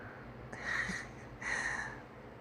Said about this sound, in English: They're snoring.